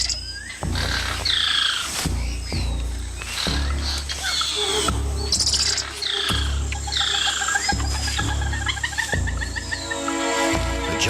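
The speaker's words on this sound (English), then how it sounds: "A squirrel monkey spots a harpy eagle and sounds the alarm, alerting everything in earshot." Squirrel monkey in the Amazon rainforest canopy giving repeated sharp alarm calls after spotting a harpy eagle, loud chattering bursts over dense bird and insect chorus, rhythmic and close.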